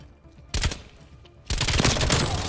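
OTS 9 submachine gun firing in the Black Ops Cold War video game, two loud rapid automatic bursts, a short one followed by a longer sustained stream of shots, close and punchy.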